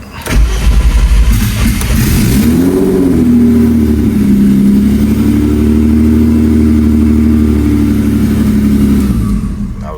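An Audi engine with a Haltech tune cold-starts with a loud crank and catch, then settles into a steady, high idle that holds loud and close for the rest of the stretch, with no talk over it.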